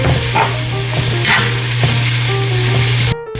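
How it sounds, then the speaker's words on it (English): Steady, loud sizzling of bacon frying in a pan, crackling and spitting continuously before cutting off abruptly near the end. "Just sizzling that bacon now."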